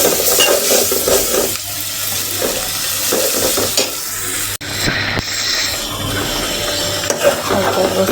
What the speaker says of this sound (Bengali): গোস্তগুলো আমি মশলায় দিয়ে দিচ্ছি, একটু কষিয়ে নেব।